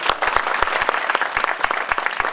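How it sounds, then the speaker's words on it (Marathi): A crowd at a village school program in Akola claps for Jaitadevi in brisk, close applause with sharp individual claps, brief and lively, without speech. "तेव्हा एकदा जैतादेवींसाठी एकदा जोरदार टाळ्या झाल्या पाहिजे"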